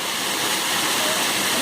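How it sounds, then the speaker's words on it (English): Waterfall at Sly Park, a loud, steady broadband roar of falling water, close and continuous with no pauses or voices. "That whole waterfall, man, whole waterfall."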